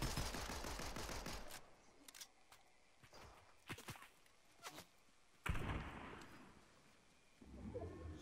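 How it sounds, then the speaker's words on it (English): Gunfire in a Star Wars-themed Fortnite match: a rapid burst of shots at the start, then scattered single shots and footsteps-like thuds, a louder crack around the middle, and another sharp burst near the end, no talking. "Somebody else was shooting too."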